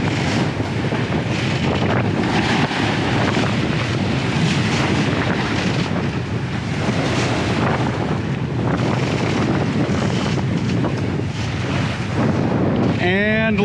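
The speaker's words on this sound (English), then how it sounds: "It's just really, really windy." Strong wind roars over a boat at sea in the Bahamas, a loud and constant buffeting rush that lasts throughout.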